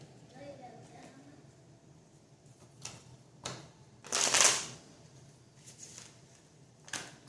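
Cards are riffled and shuffled close by in a few brief bursts, one louder flurry in the middle, with low talk in between.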